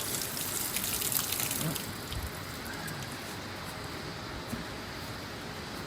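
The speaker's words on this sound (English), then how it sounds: "Give my boots a wash as well." Running water hosed over rubber boots on a farm after cow hoof trimming, a constant close gushing spray that is slightly louder at first, then steady.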